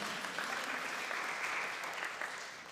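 A Sunday service congregation gives applause for Hannah, the religious education assistant, an even, continuous patter of many hands that stays fairly soft and fades slightly at the end.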